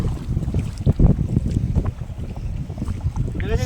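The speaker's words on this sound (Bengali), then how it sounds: "সেই ঢেউ তো, দক্ষিণ হাওয়া দিচ্ছে তো" Strong wind buffets a boat on a river in the Sundarbans, with rough waves slapping the hull in a loud, continuous rumble and gusting microphone noise throughout.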